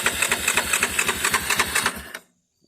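A Yamaha Grizzly 660 ATV engine runs with a rapid, regular chugging pulse for about two seconds, then cuts out abruptly into silence as it stalls.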